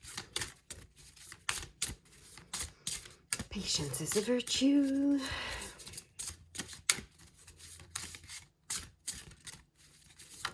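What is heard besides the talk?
shuffling tarot cards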